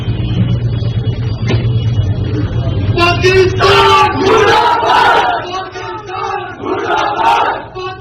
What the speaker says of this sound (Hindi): जयपुर की जामा मस्जिद की सीढ़ियों पर चढ़ करके पाकिस्तान मुर्दाबाद के नारे लगाए जा रहे हैं